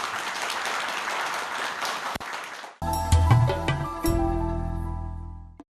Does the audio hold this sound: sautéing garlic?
no